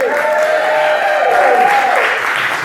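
Cabaret audience at a Glasgow venue applauding themselves, a steady wash of clapping and cheering that holds loud and close throughout, with whoops and voices rising within the crowd noise.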